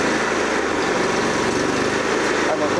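Honda HSL2511J snow blower engine running steadily and loud up close, a constant throbbing drone with someone talking over it throughout.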